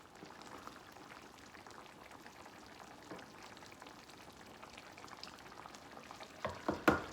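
A ground meat burger patty cooks in a pan with a quiet, steady frying crackle, then a few louder clattering bumps near the end.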